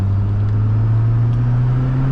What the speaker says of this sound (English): gotta love that turbo